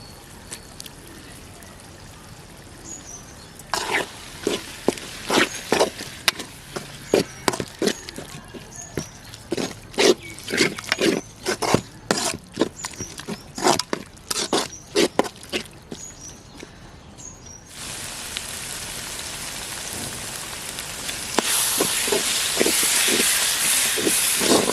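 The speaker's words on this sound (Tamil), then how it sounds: "வெங்காயம் தக்காளிலாம் நல்லா வதங்கிட்டுருக்கு" Onion and tomato sauté in a pan for fish curry, with a series of sharp scraping and clattering stirs over a low sizzle, then a steady louder hiss of frying toward the end.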